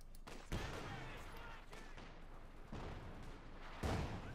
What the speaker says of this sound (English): Mortar engaged